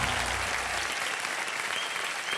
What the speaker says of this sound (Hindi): अब तालियां।